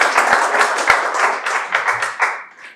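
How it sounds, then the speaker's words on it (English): Studio audience on a couples game show breaks into a steady round of clapping and applause lasting nearly three seconds, fairly close and loud, thinning slightly toward the end. "round of applause for them"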